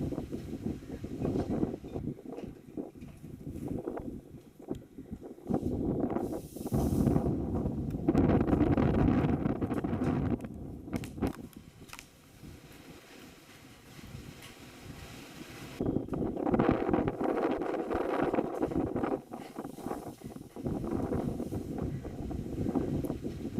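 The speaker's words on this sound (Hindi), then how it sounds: "साथ ही तेज हवाएं 40 से 50 किलोमीटर प्रति घंटे की रफ्तार से यहां पर चल रही हैं।" Strong wind gusting at 40 to 50 km/h during a thunderstorm, heard as a loud, roaring rush buffeting the microphone in long surges with short lulls.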